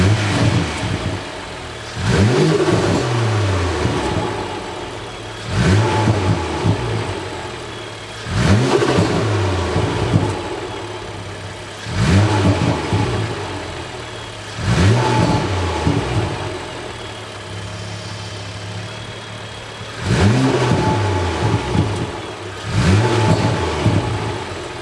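A BMW M2 F87 fitted with a carbon fiber intake revs repeatedly. Each throttle blip rises sharply and then falls back to a steady idle, about seven revs spaced a few seconds apart, loud and close.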